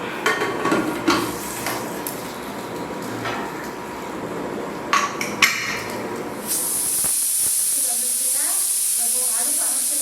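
A pressure cooker cooking orange rice on low heat gives off a steady hiss of steam. Sharp metallic clatters come first, then a sustained high whistling hiss takes over in the second half.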